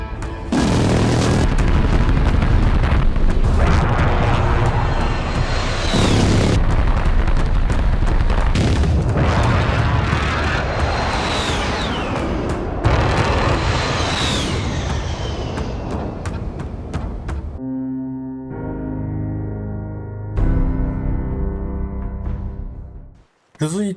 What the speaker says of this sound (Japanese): 弾幕の後に遅れて聞こえてくる機関砲のサウンドが何とも言えない虚無感を演出して